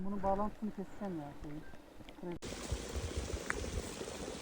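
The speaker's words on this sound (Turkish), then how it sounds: "Burada bir ellerimizi yıkayalım da" Running water splashes and pours steadily as hands are washed at an outdoor mountain tap, coming in after someone speaks briefly.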